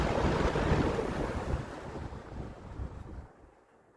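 A vintage Sears 20-inch whole house fan running at high speed gives a loud, broad rushing whoosh of moving air that slowly fades and drops away to near quiet at the end.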